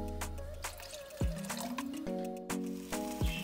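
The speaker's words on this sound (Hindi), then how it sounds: "अब आप इसमें डालें 3 कप्स ऑफ वाटर" Three cups of water poured into a cooking pot with a crumbled chicken stock cube for rice, making close liquid splashes and gurgles with a few short pouring bursts over a steady background hum.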